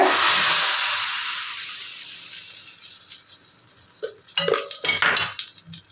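Hot tempering of oil and asafoetida is poured into curd for a bottle gourd buttermilk curry. A loud sizzling hiss fades away, followed by clinks and rattles of a metal pan and utensils.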